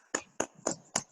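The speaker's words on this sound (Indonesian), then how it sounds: "tepuk tangan buat Zahra" A few sharp hand claps in an even rhythm, four quick beats close by, from a small group applauding a student at a leadership training session.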